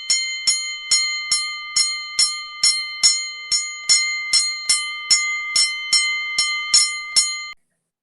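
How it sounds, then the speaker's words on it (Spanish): A boxing-style bell rings in a rapid, even series of about fifteen bright metallic strikes, each clang decaying into a sustained ringing tone, loud and close, then stops abruptly. "O sea que vamos con campana y nos fuimos para el próximo round."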